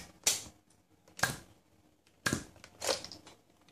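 Four sharp pneumatic pops from a Buzz Bee Tetra Strike toy blaster firing after being pumped, spaced unevenly about a second apart, close and fairly loud with quiet gaps between.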